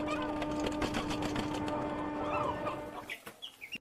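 Hens in slaughter footage make clucking, gasping calls and sharp high-pitched shrieks over a steady mechanical hum, with the calls growing more broken and isolated toward the end.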